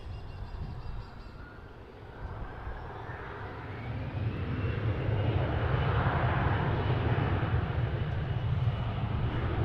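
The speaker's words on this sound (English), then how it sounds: "In fact, there's American 777 Heavy there right now." An American Airlines Boeing 777 heavy jet at DFW airport roars steadily, a broad engine rumble that swells slightly louder over the clip, with no voices.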